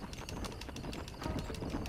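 Horse hooves clip-clopping at a steady trot in the Western video game Red Dead Redemption, a faint rhythmic series of evenly spaced hoof beats over low background ambience.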